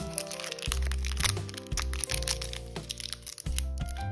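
Crinkly crackling and crunching of a Pokémon booster pack wrapper being torn open, close-up, with repeated sharp crackles and rustles over several seconds.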